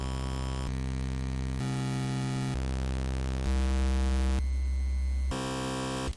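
Chiptune tones from the original Game Boy waveforms, played through GBT Player in GB Studio, step through several distinct buzzy timbres in blocks of roughly a second each, steady and loud with no talking.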